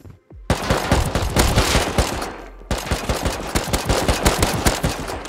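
Sustained automatic gunfire from a firefight in the survival game Rust, rapid loud shots in a steady stream with a brief gap before the burst resumes, no talking.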